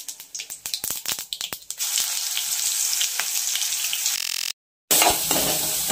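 Curry leaves, cumin and ground masala paste frying in hot oil, with sharp crackling spatters at first settling into a steady close sizzle, briefly cut off near the end.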